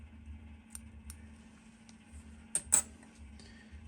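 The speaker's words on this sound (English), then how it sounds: "Really helps to have a good pair of fly scissors here." Small fly scissors snip at a fly-tying bench, a few sharp, faint clicks spaced out over a quiet low hum, with a louder pair of close snips near the end.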